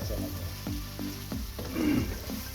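Spiced masala frying with turnip bhujia in a pan gives a soft, close sizzle, with several spoon knocks and stirring scrapes at an uneven rhythm.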